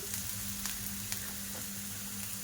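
Finely chopped potato fries with onions and chillies in a steady, even sizzle, with a few faint ticks of the spoon over a low background hum.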